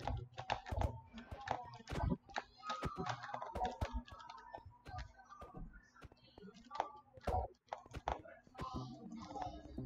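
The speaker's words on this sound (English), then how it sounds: "you get to hear me clicking my keyboard." Rapid, uneven clacking of a new computer keyboard being typed on during a Minecraft MCC Island session, close and crisp, with bursts of keystrokes and faint speech-like sounds mixed in.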